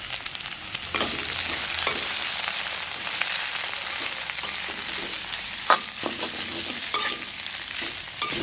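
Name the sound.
green chilies and curry leaves sautéing in oil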